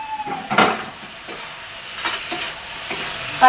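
Cabbage being added a little at a time to spice paste frying in a pan, with a steady sizzle broken by a few louder scrapes and stirs, close up with no talk.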